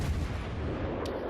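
Naval gunfire from a warship in a video game, a single deep booming salvo with a long low rumble, heard alone without talk.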